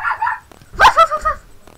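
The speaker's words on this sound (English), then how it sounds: "That's the dogs." A couple of dogs bark close by, a few short yapping barks and a brief whining yip in quick succession, loud and clear with no one talking.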